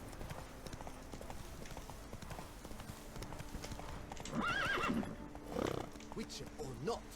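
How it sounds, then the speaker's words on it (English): Horses in an open field in The Witcher 3 game world, with steady hoof clip-clop and several whinnies and neighs rising over it in the latter half, moderately close, alongside ambient game sound. "Field of random horses."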